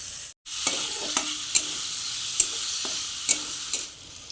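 Onion, dried chilli and tomato fry in hot oil in a wok for egg bhujia, a steady close sizzle broken by a few sharp stirring scrapes and clicks, with no voices.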